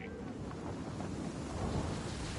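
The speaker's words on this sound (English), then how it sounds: "you gotta move fast when that lightning's about to strike, kid" Thunder from a lightning strike in the game Just Cause 4 rolls as a low, continuous rumble mixed with rain-like noise, steady and moderately loud throughout.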